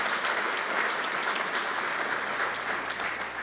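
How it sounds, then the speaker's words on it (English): Audience applause at a mayors' breakfast gathering, a dense steady wash of many hands clapping at full strength throughout, with no voices rising above it. "please give yourselves and all those who gave them a round of applause for that"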